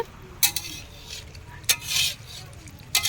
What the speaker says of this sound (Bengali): মাংস কষা এখনো চলছে